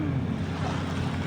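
Sea waves at the seaside, a steady washing surf roar with wind mixed in, heard close and continuous over a brief stretch with no voices.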